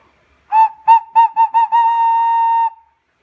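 A handmade clay whistle, or ocarina, gives a few short hooting toots and then one steady held note, clear, pure and close, with nothing else sounding.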